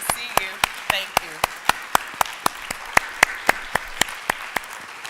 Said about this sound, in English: let's give them a round of applause for all of their service